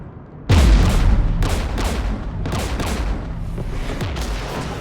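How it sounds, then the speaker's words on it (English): Mass Effect 3 combat against the Geth near a jamming tower with anti-aircraft guns: a heavy boom opens the scene, followed by repeated loud blasts and bursts of gunfire over a dense rumbling battle din, no voices. "We're taking fire."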